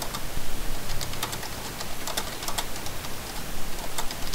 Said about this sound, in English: I hear typing. I'm typing, is that okay?